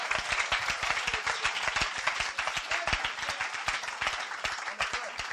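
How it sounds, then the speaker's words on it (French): A church congregation applauds the Lord, with dense, sustained clapping from many hands that stays loud and steady throughout, with no speech over it. "Acclamons le Seigneur, acclamons un peu le Seigneur."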